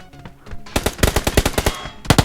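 Thompson submachine gun firing in PUBG: New State, rendered on an iPhone 6s: a fast, loud run of about ten closely spaced shots after a brief quieter lead-in, then a short second burst.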